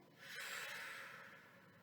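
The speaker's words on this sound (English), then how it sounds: "I'm breathing out on the way up." During a weight workout, one long, breathy exhale comes out as the weight is lifted, heard close and fairly soft with no talking.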